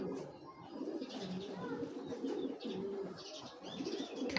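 A game-flying club pigeon coos in low, throaty pulses that repeat steadily, close by over a soft murmur of background sound, with no clear talking.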